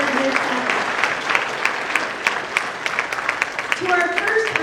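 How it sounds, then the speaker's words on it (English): Audience applause for women honorees at an International Women's Day evening event, a sustained wash of many people clapping with a few louder individual claps, and a voice speaking briefly near the end. "So let's get a round of applause for the other incredible women who are being honored this honor."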